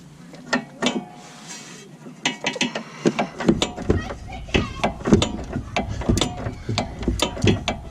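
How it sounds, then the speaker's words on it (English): A 15 mm ratcheting wrench works loose the front sway bar end link stud on a 2012-or-later Ford Focus, producing close, loud bursts of rapid ratchet clicks in an uneven rhythm. "Now I may be using a 15 millimeter wrench, but this is a Met wrench and doesn't really hold like a conventional wrench."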